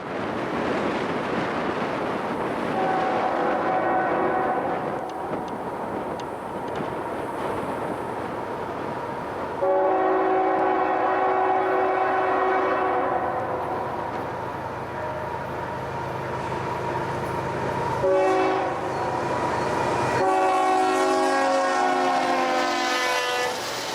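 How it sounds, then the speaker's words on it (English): A CP freight train rumbles past on BNSF's Hinckley Subdivision with long horn blasts sounding several times over steady wheel noise, with heavy wind roaring throughout on a very windy afternoon. "the last train of the week is CP making their once-a-week appearance"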